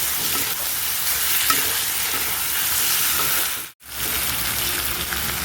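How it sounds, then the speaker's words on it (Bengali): Chopped tomatoes stir-frying in a pan for a chicken curry with pointed gourd, a steady close sizzle and frying hiss throughout with faint stirring, briefly dropping out for a moment before resuming. "এবার দিয়ে দিচ্ছি কেটে রাখা টমেটো ভালো করে কষাতে হবে"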